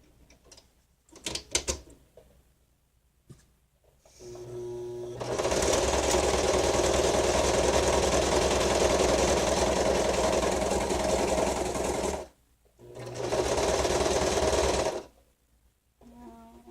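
Sewing machine stitching book-page pocket booklets: a short burst, then a sustained run of fast steady stitching for about seven seconds, a pause, and another shorter run, fairly close and unaccompanied by talk.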